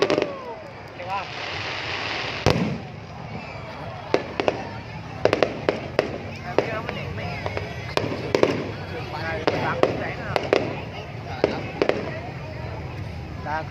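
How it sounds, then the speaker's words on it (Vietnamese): Celebratory fireworks go off in a city festival display, a steady run of sharp bangs and crackles echoing at middle distance over crowd noise and wind, with people talking nearby. "Ta coi trường bắn pháo hoa."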